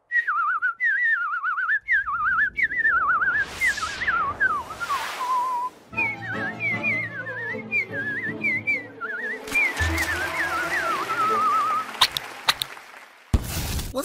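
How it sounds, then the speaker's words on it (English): Homer Simpson whistles a wavering, warbling tune up close in a Simpsons cartoon scene, with a brief pause and a few thumps before the melody resumes, ending with a sharp knock. "Where is that whistling coming from?"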